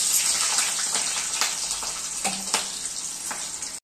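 Chilies and onion dropped into hot oil for a tandulja greens dish, frying with a loud, bright, continuous sizzle and crackle, plus occasional stirring clinks, close up with no voices.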